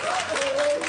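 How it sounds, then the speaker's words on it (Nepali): Audience clapping, a short burst of dense applause with a voice and a faint tone running over it. "ताली किन नबजाएको त नि"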